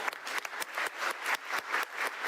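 An audience claps steadily throughout at a cooking session, a dense patter of many hands with a few sharper individual claps standing out, fairly close and with no talk over it.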